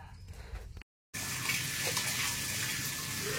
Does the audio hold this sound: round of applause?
no